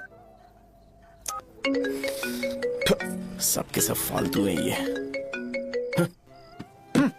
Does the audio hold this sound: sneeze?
no